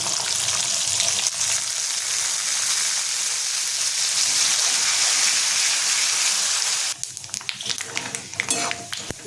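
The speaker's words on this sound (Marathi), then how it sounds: "गॅस मंद काजू तीळ आणि मसाले भाजून घ्यायचे" Cashews, sesame seeds and spices roasting in a pan over a low gas flame give a steady, close crackling sizzle, easing into sparser pops and scraping stirs toward the end.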